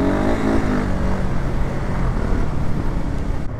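A KTM 690 Enduro R single-cylinder motorcycle accelerates on gravel, its engine droning loudly and steadily up close beneath heavy wind buffeting.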